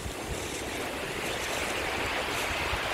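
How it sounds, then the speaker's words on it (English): Choppy sea surf breaking at a beach on a cold evening, a continuous loud wash of waves with gusty wind buffeting the microphone throughout, no voices. "Have a look at how choppy the sea is."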